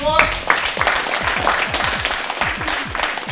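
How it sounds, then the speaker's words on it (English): A crowd at a judo center claps steadily for several seconds, a dense, close patter of hand claps filling the room. A voice talks at the start. "Give a round of applause."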